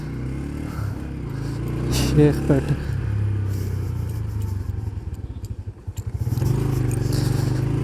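Motorbike engine running on a street in Islamabad after rain, a low steady rumble with a rising rev toward the end, close by, with someone speaking over it.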